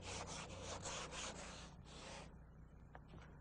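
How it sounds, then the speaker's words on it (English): 80-grit sandpaper on a sanding block rubbed over body filler on a car panel, a close, even rasping scrub in repeated strokes for about two seconds before fading to faint scraping. "We're going to be going still with 80 grit sandpaper, but using a sanding block"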